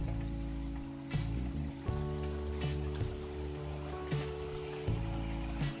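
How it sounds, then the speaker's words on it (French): Steady rain falls after a thunderstorm alongside a low, constant engine-like drone, with a few sharper taps and drips breaking through now and then. "la journée se termine avec une pluie"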